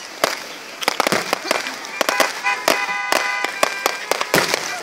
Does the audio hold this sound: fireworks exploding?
yes